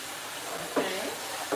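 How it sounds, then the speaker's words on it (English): A pan is rinsed under a running kitchen tap, giving a steady close hiss of flowing water with a brief splash or clatter partway through. "So I'm gonna go ahead and wash this pan out."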